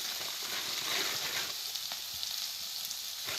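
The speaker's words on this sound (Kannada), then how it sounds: "ಇವಾಗ ನೋಡ್ರಿ ನಾನು ಟಮಾಟಿ ಹಾಕಿನೋ ಈಗ ಫ್ರೈ ಮಾಡ್ಲತ್ತನು" Tomatoes fry in a pan for a village-style cabbage dish, giving a continuous soft hiss and sizzle at low, even volume, with no voices.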